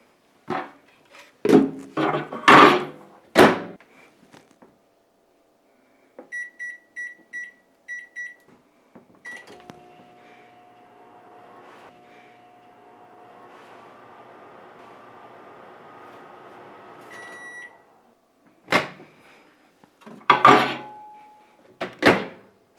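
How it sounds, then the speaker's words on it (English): A microwave oven hums steadily for several seconds, bracketed by a series of short electronic beeps and sharp clacks of its door opening and shutting, heard close and without talk. "Let's start with the microwave test."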